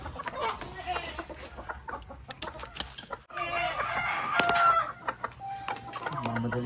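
Chickens cluck close by and a rooster crows among them in a farmyard, a busy mix of calls over faint background noise.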